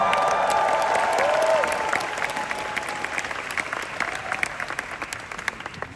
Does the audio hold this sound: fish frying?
no